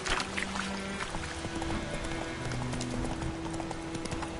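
Roach, a horse in The Witcher video game, gallops with a steady clip-clop of hooves under a low music bed, continuous and fairly close throughout.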